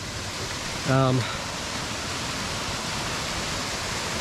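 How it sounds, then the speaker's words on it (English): A waterfall pours down a rocky mountainside on a forest trail, a dense, steady roar of rushing water close by; a brief voice rises over it for a moment. "that waterfall is coming all the way down the mountain"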